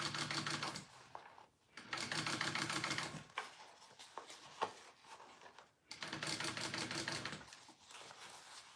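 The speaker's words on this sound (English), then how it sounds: "Don't forget to top stitch." A sewing machine top stitches a fabric wristlet in three quick, steady bursts of rapid needle clatter, with short pauses and small handling clicks between runs.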